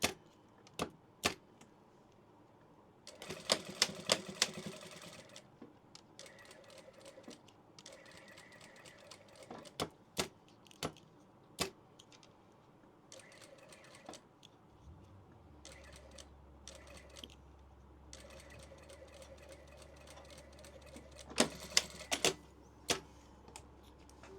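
Sewing a tissue pouch: a sewing machine runs in short whirring bursts amid sharp clicks and taps, with a low steady hum starting partway through; no voices.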